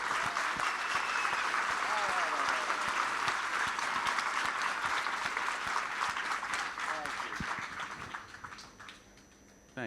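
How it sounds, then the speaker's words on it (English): A seated audience at the Cannes film festival claps loudly and continuously for actor Matt Damon, a dense roar of hands that holds strong for several seconds before thinning out and fading near the end. "A triumphant round of applause for Matt Damon, please."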